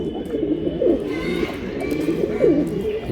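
Short face pigeons coo close by in low, repeated rolling calls, with several overlapping coos over about three seconds.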